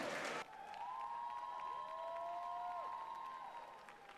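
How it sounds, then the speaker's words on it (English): Crowd applause after a five-round 58kg A Class Muay Thai bout, heard as a sustained, fairly faint wash of clapping and cheering, with a tonal whistle-like sound gliding above it through the middle. "a huge round of applause for both these Muay Thai warriors"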